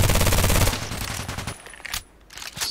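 Kriss Vector SMG firing a fast, loud, close full-auto burst in the Contract Wars video game, ending abruptly and followed by quieter scraping and handling sounds.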